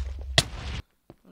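An assault rifle fires in the Halo video game: a sharp crack opens a short, dense burst of shots, which cuts off abruptly into near silence, followed by a faint later pop.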